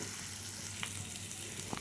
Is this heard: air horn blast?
no